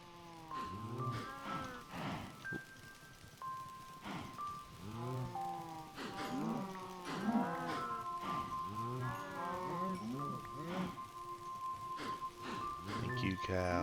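Cows in the Minecraft video game moo repeatedly in short, wavering calls against a backdrop of steady game tones and music, with a person talking over them throughout.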